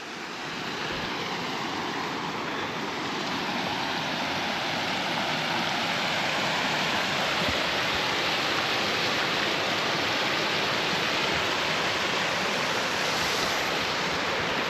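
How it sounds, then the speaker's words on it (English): A waterfall beside a hiking trail gives a steady, full roar of rushing water that stays even and unbroken throughout, with no voices over it. "man, I love waterfalls."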